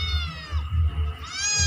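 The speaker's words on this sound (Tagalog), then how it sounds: "Yan pusa guys." A cat meows in a home kitchen where meat is frying in hot oil; two or three short, close meows come over low rumbling background noise.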